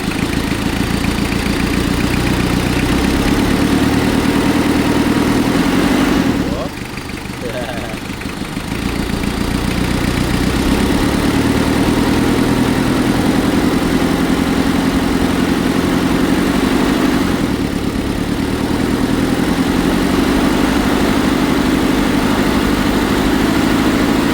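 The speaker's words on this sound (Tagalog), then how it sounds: "nire-rev nyo siya ngayon. Huwag naman sobrang taas na rev." A Ford Everest first-generation engine running steadily during a coolant refill, a loud continuous mid-low drone with a brief dip in level partway through, heard close up.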